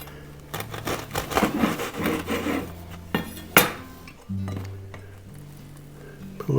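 A knife saws through a crusty baguette slice with close, raspy strokes, with a few sharper cracks of crust and a quieter stretch afterward.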